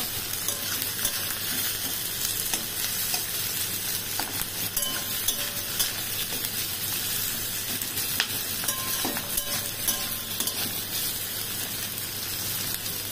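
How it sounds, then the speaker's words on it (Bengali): Onions frying in a pan for a country chicken and potato curry, a steady dense sizzle like light rain, close and continuous with occasional faint stirring clicks. "পেঁয়াজটাকে আবার লাল লাল করে ভেজে নেব"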